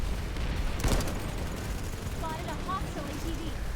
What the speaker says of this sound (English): I take some free pot shots at faraway enemies and grab an assist.